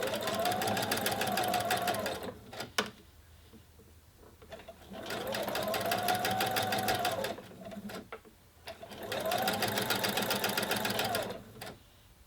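A sewing machine stitches a seam on a continuous placket, running in three long steady bursts of rapid motor whir separated by short pauses with small clicks, close and loud.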